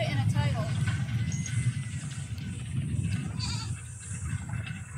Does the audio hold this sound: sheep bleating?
yes